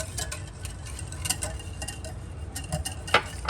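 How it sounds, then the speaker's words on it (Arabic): Spoon stirring yeast, sugar, water and oil in a bowl for cookie dough, quick irregular clinks and scrapes with a sharp knock near the end, close and fairly quiet. "نقلب كده جامد"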